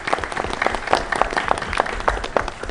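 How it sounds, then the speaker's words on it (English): Audience at a diplomatic forum radio program clapping for the program, with individual claps audible within a moderately loud burst of applause lasting under three seconds. "Let's applause for the program."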